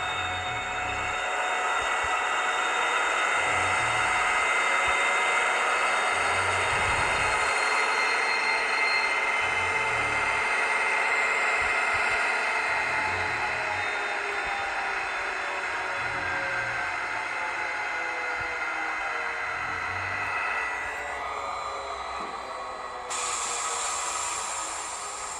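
BR159 Eurodual model diesel locomotive sound module, a steady close-up engine drone with a high whine and a soft pulsing throb, easing and shifting slightly as the model slows toward idle and then picks up.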